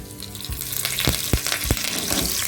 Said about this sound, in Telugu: ఆయిల్ వేడైన తర్వాత ఇందులో కొద్దిగా జీలకర్ర, 1/2 టీ స్పూన్ ఆవాలు, కొద్దిగా కరివేపాకు,